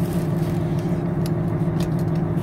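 A concrete pump truck's diesel engine runs with the PTO engaged, a steady, loud, low droning hum close by with no talking over it.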